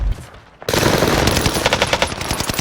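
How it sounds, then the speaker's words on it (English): Sustained machine gun fire in the video game Call of Duty: Warzone, firing a no-recoil STG, bursts in a loud rapid stream after a brief quieter moment. "Heavy fire here."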